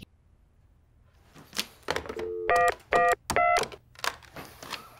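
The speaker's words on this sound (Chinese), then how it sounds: "马上拿起电话报警" A telephone keypad dialed in a quiet room to call the police after dull explosions outside; a few soft presses lead into a short run of distinct, loud dialing tones, with faint handling clicks around them and no talk.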